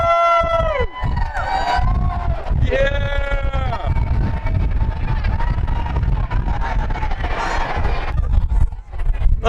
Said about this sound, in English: there's so many people up on the front here and all over the ship screaming, cheering